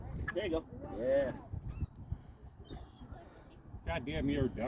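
A person imitates a duck call by voice, nasal honking quacks in short bursts outdoors, mixed with people talking nearby.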